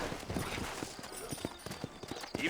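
Horse hooves clip-clop in a steady rhythm in the Western video game Red Dead Redemption, moderately close with a soft ambient bed and faint voice-like murmur.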